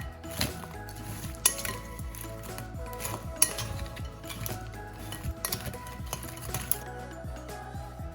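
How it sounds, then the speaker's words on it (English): Curry-coated crab pieces stirred in a metal pot, a utensil scraping and clinking steadily against the sides over a soft sizzle, with a few sharper knocks standing out, heard close and alone. "Then we'll go ahead and just give it a little stir."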